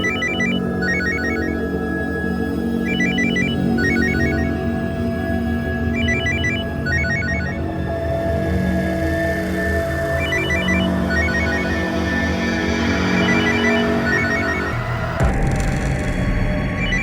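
A mobile phone rings loudly and steadily indoors, its ringtone repeating in regular bursts for a long stretch before cutting off abruptly near the end.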